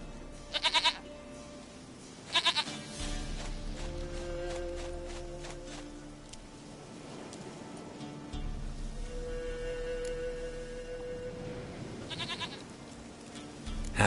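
A goat in The Witcher 3 video game bleats in short, loud, wavering bursts, three calls spaced across the stretch over a steady ambient game background, with no talking.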